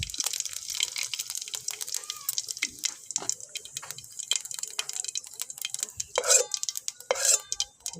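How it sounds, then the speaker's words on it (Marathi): Mustard seeds and cumin crackle and sizzle in hot oil over a wood-fired stove, a steady bright hiss dotted with sharp pops, with a couple of louder spattering bursts near the end. "तेल तापले आता मोहरी टाकून घेऊ."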